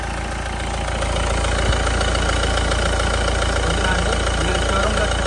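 A used car's engine idles steadily up close, a continuous low, even hum with no voices over it.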